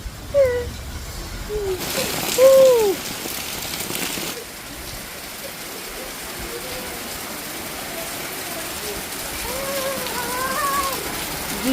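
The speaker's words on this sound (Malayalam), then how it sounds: "മഴയായി" Monsoon rain falls in Lakshadweep as a steady, soft hiss with windy gusts, while scattered squeaky chirps rise over it.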